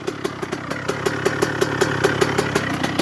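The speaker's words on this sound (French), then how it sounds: "on dirait trop le bruit d'un moteur derby gros" A Derbi motorcycle engine idling up close, with a steady mid-pitched throb and regular rhythmic pulses.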